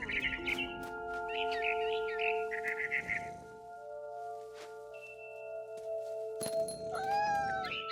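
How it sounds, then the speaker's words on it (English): A barn swallow chirps in the video game What Remains of Edith Finch, with quick bright twittering phrases early on over sustained musical tones, then a sharper high-pitched call near the end. "Then I heard chirping outside my window. It was a barn swallow going back to her nest."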